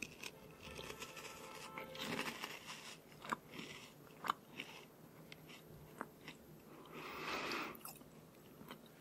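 Light, salted bread-like crunchy snacks being bitten and chewed up close, with a few sharp crunches over soft, continuous mouth sounds and no talking.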